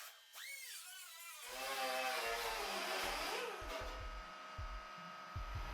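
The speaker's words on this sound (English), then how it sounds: "steel wire bits on a Sealy air die grinder. This made light work of what paint was left over" A Sealy air die grinder fitted with steel wire bits strips old paint from a BMW E30 325i chassis, a steady high whine and abrasive hiss with pulsing low thumps, close and continuous.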